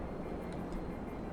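A UD-4L Cheyenne dropship in a GTA 5 mod throttles down during a runway approach, a broad, steady engine roar and rushing drone that holds evenly throughout.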